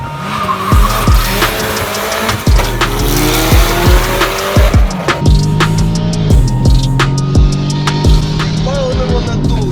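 A turbocharged Moskvich AZLK 2141 races past an Audi S3, its engine roaring loud and near with rising and falling gear pulls, tire squeal and a sustained high whine, accompanied by excited voices.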